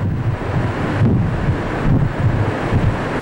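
Strong typhoon wind roaring steadily and loudly, with a heavy rumbling low end and buffeting gusts that swell and ease, no voices.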